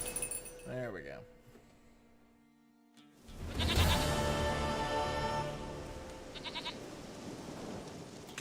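Goat bleating in the video game The Witcher III, a wavering bleat near the start followed by clinks and a louder burst of game noise, with talking over parts of it.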